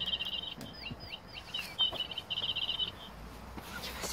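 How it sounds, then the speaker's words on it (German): Electronic motion-sensor toy bird chirping in bursts of short, bright whistled tweets and sweeping trills over about two and a half seconds, moderately near, with no talk over it. "Ist das ein Vögelchen?"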